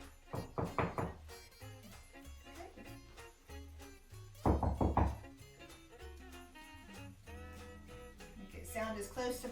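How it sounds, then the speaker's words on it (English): Knuckles rap on a door for dog training, first a quick cluster of knocks, then a second louder burst a few seconds later, with quieter talk and faint taps around them. "all I want them to learn is when you hear a knock, you're going to get a cookie."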